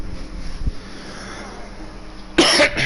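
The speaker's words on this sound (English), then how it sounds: "was a cough that I just couldn't get out." One short cough comes early, followed by quiet room tone, then a louder burst of throat-clearing near the end, with no speech.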